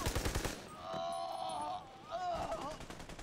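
Rapid machine gun bursts from a co-op shooter video game, Army of Two: The Devil's Cartel, crackling in quick strings of shots with a brief pause between volleys and players talking over the gunfire.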